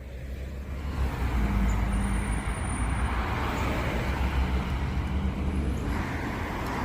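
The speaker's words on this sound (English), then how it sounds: "Here comes 37, arriving at Curtin Uni Bus Station." Route 37 bus pulling into Curtin Uni Bus Station, a loud diesel engine rumble swelling close by with a sustained low drone and traffic noise, a brief high hiss of air brakes partway through.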